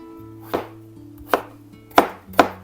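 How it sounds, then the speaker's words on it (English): Four crisp knife strokes through potatoes on a cutting board, spaced unevenly about half a second to under a second apart, close and clear against a faint steady hum. "I'm also going to take these 2 potatoes and chop them up to put in my vegetable broth"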